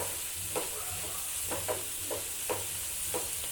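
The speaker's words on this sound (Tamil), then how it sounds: "வெங்காயம் நல்லா வதங்கி வரட்டும்." Onions with curry leaves sauté in a pan for vegetable kuzhi paniyaram, giving a steady soft sizzle. A spatula scrapes and stirs in regular strokes about every half second to second, with no talking.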